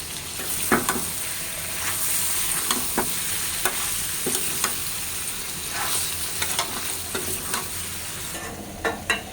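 Vegetable curry with duck eggs, tomato and green chili sizzles in a pan while being stirred. A steady frying hiss runs under repeated scraping strokes of the spoon, close and fairly loud.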